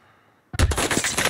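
Sudden burst of automatic gunfire in Call of Duty: Warzone, loud and close after near silence, a rapid rattling volley of shots.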